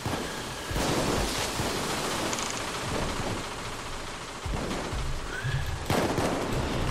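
Gunfire in the video game Payday 2, a dense continuous barrage of shots under a loud noisy wash, with a few louder bursts and no clear talk.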